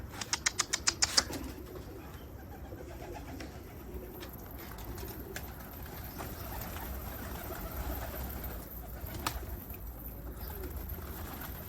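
A pigeon takes off with a quick burst of loud wing flaps near the start, followed by a long stretch of dull outdoor rumble and faint distant noise.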